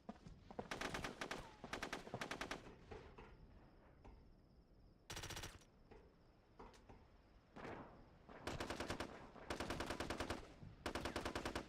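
Sustained bursts of machine gun fire in the tactical shooter game Socom 3, loud rapid automatic volleys separated by short pauses, with no talking.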